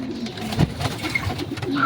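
Pigeon cooing close by, a returning racing pigeon, with soft low coos through the short stretch over faint background noise.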